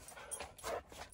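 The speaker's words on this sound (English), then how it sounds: "there's a dog out there" Dog outdoors in Quartzsite panting in quick soft breathy bursts, faint and close-ish, with a slight whimper mixed in and no talk.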